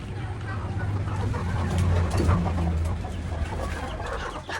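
Laying hens and turkeys in a backyard coop cluck and murmur nearby, soft irregular calls rising and falling with low rustling, no clear speech.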